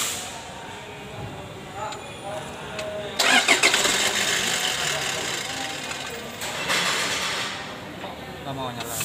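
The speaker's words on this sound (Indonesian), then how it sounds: "Kita start dulu mesinnya." Toyota Fortuner with a 2KD diesel engine, tensioner belt and idler bearing just replaced, cranking with a loud whirring starter burst partway through, then a second cranking attempt, close by amid steady background noise.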